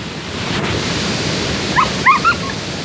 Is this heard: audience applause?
no